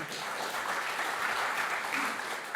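Church congregation at a Sunday worship service in Jeju giving a warm round of applause, a continuous, even patter of many hands clapping, moderately loud and sustained without pause.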